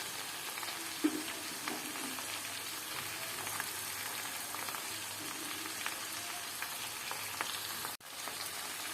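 Mixed vegetables sizzle steadily in a pan for Bengali-style prawn cooking, with a soft continuous frying hiss and a few faint scrapes of stirring throughout, no voices.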